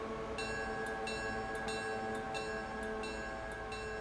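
A train runs in the video game Railroader as a steady, humming rail drone with faint, evenly spaced clicks of wheels over track joints, continuous and moderately distant.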